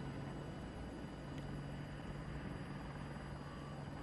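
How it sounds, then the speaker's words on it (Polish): A helicopter in the video game Battlefield 2042, a steady low rotor thrum and engine drone heard faintly at a distance, constant throughout with no talk over it. "Jest jakiś śmigłowiec, wiesz?"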